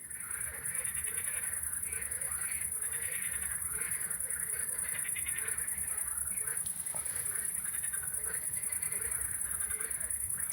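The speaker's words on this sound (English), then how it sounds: "The cacophony of the frogs." Frogs croak in a dense chorus at night near a carp-fishing lake. Steady pulsing calls sit under a constant high, thin whine, fairly distant and quiet.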